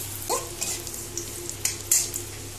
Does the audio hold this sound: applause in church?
no